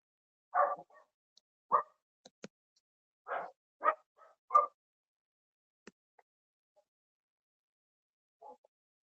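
A dog barks in short, separate bursts, a few single woofs and a quick pair spaced over several seconds in otherwise quiet surroundings, ending with one faint final bark.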